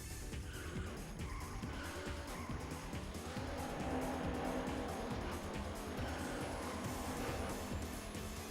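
Race cars roar and skid in the arcade racing game Daytona USA on a SEGA Saturn, a steady engine drone with screeching tire squeals running throughout at moderate level, with no voice.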